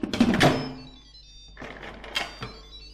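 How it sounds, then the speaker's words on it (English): The lid of an Instant Pot pressure cooker is twisted into place, giving a couple of clunky thuds and scrapes of metal and plastic at close range, with no talk. "Then you twist on the lid"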